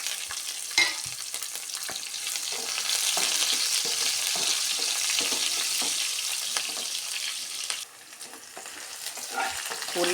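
Onions fry for sambar alongside dried chillies, garlic and curry leaves in a steady close sizzle, broken up by frequent stirring scrapes and ladle taps, with a brief dip in loudness near the end.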